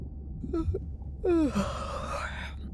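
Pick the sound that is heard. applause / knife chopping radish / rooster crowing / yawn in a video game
yawn in a video game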